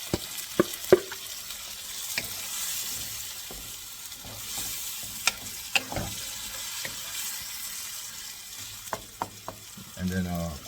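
Beef marinated in soy sauce and lemon fries in a pan with a steady moderate sizzle, broken by sharp utensil clicks and scrapes, heard close and without talking.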